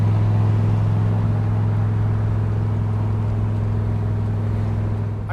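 A car engine runs smoothly while driving, a steady low hum with even tonal drone and no misses or hesitation, easing slightly in loudness toward the end.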